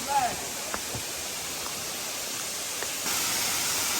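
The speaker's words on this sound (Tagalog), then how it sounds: "Ayun na po ang Batlag Falls." Batlag Falls gives a continuous, even rush of falling water that swells louder near the end, while a voice calls out briefly at the start.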